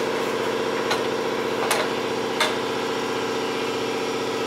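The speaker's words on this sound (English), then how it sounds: "Apologies for the compressor noise." An air compressor runs steadily in a working shop, giving a constant loud mechanical drone. A few faint sharp clicks sit on top of it, and no one speaks.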